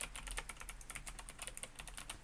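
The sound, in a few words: typing on a computer keyboard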